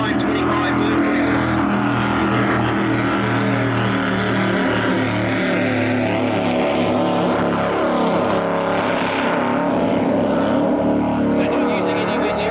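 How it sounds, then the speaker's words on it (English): Powerboat racing with 525 Mercury engines of 502 cubic inches, a loud continuous engine roar with steady tonal drone that holds throughout without pause. "Listen to the difference in the sound of a Team 3 with the 525 Mercury."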